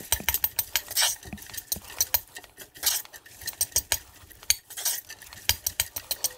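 Chopped garlic, ginger root, vegetables and meat stirred together for egg rolls, with a busy, irregular run of close clinks and scrapes of a utensil against a bowl.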